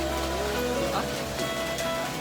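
Heavy rain pours down steadily during a motorbike road trip toward Haputale in misty hill country, forming a constant broadband hiss with faint voices mixed in.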